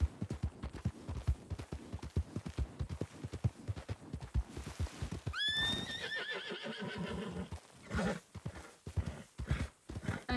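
A nervous horse in a Western video game gallops with a steady drumming clip-clop of hooves, then lets out a loud, shrill descending whinny midway before the hoofbeats resume.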